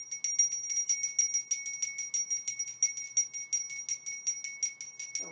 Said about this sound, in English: Then we can begin our ringing of our bell.